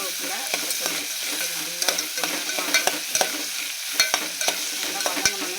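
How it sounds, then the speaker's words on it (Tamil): Onions, shallots, green chillies and curry leaves sautéing in a pan for a fish curry: a bright steady sizzle with repeated spatula scrapes and clacks at an uneven rhythm, close up with no talking. "கல் போட்டு வதக்கலாம். சீக்கிரம் வதங்கணும். வெங்காயம், சின்ன வெங்காயம், பச்சை மிளகாய், கருவேப்பிலை, கொத்தமல்லி"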